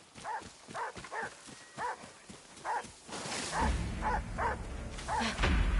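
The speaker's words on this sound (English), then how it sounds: "They're barking." Guard dogs in the video game Ghost of Yotei bark repeatedly at a steady pace, mid-distance, with rising ambient game noise and rumble toward the end.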